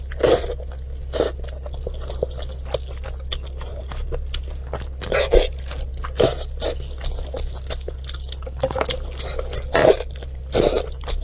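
Grilled pork eaten up close: repeated loud crunching bites and wet chewing in an irregular rhythm over a steady low hum, with no talking.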